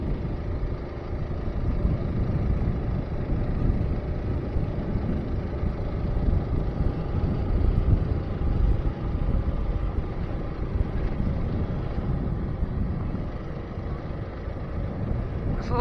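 A Trailmaster MB200 mini bike, fresh out of the box, runs steadily at close range, its low engine drone holding constant under rushing wind across the whole stretch.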